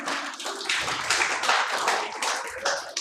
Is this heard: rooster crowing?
no